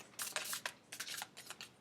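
Final shuffle of a tarot deck, a faint, close run of quick papery riffles and flicks in short bursts, with no voices.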